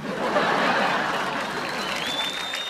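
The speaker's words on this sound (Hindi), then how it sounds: "चित्रांगदा, इनके लिए भी जोरदार तालियां।" Audience at a celebrity cricket league comedy event applauding, a dense, loud, continuous clapping that fills the whole moment, with a little laughter mixed in.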